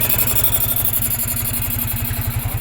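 A motorcycle that sat unused for almost a year idles close by just after start-up, warming with a steady, rhythmic low pulsing throb.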